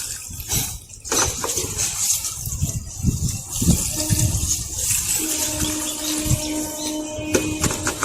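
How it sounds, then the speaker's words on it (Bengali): Water gently poured into a tub of soil prepared for planting a water lily, a soft steady gush with trickling and light rattles, fairly close, no talk. "সবখানে আলতো করে জলটা গামলায় দিয়ে দেবো"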